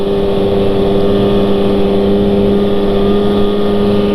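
A 2015 M8000 HCR mountain snowmobile runs along a trail with a loud, steady engine drone holding a constant pitch close to the microphone, with some wind rush and no speech.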